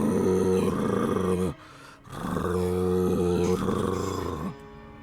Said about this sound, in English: Their fangs are bared as you hear them growl.